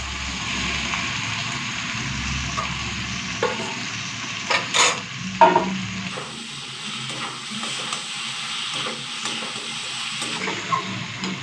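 Fried potato, pointed gourd and soybean being sautéed in spices in a pan, giving a steady close sizzle with intermittent stirring scrapes and a few sharper clinks.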